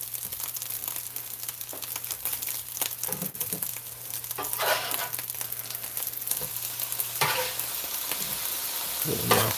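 Sweet chili pork fried rice sizzles steadily in butter in a pan, with scraping and stirring strokes of a utensil breaking up clumps at irregular intervals, close and continuous throughout.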